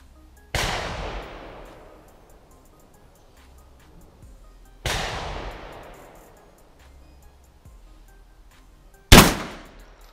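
An Ata Arms Neo 12 shotgun fires Karat 12/70 slugs outdoors: three loud, evenly spaced blasts, each trailing a long rolling echo, the last one harsh and abrupt.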